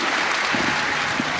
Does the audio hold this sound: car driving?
no